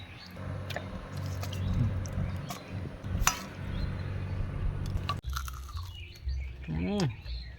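Crispy goat-fat pakoras are bitten and chewed close up, with repeated crunches. Faint bird chirps sound in the background and a voice comes in briefly near the end.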